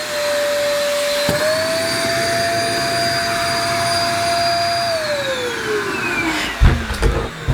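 A Black & Decker DustBuster Mini Vac cordless handheld vacuum runs with a steady, loud whine, its motor pitch rising partway through, then dropping away as it switches off, leaving a few handling clunks at the end.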